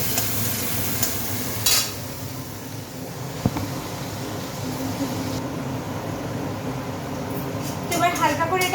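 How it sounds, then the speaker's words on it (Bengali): Grated tomato fries in a pan and is stirred gently, producing a steady close sizzle with occasional scraping clinks while someone talks over it. "এবার এটা একটু হালকা করে নাড়াচাড়া করবো"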